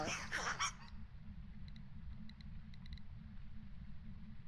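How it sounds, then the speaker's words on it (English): Honking, goose-like ghost call in the Phasmophobia video game, a short strained burst near the start followed by a quiet low hum with faint ticks. "It sounded like a dying duck."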